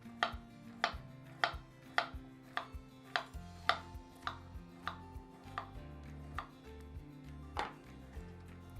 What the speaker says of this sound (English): I'm not going to peel the carrot. I'm just going to slice them and put them.